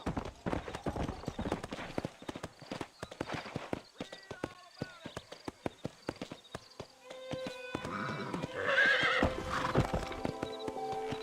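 A horse in the Red Dead Redemption western video game gallops with rapid rhythmic hoofbeats, then neighs loudly near the end, close and prominent with a voice speaking over it.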